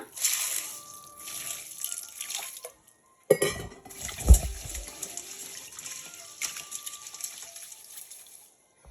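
Rice being rinsed in water in a metal pot, with clinking and swishing splashes in short bursts, a louder slosh in the middle and quieter scraping afterward.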